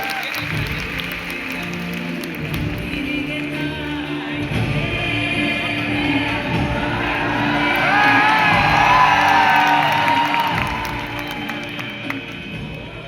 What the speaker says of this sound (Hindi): जोरदार तालियों और शोर के साथ स्वागत कीजिए डॉक्टर विशाल मिश्रा सर का